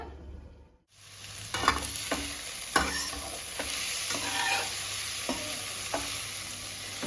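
Khesari saag is stirred and fried in a pan on low gas: silence first, then a steady sizzle with several sharp spatula scrapes and knocks at irregular intervals, close and clear.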